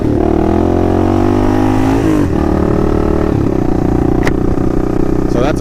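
Kawasaki KLR650 motorcycle engine revving hard in first gear during a wheelie, a loud sustained single-cylinder drone that climbs in pitch, dips briefly, then holds at high revs up close.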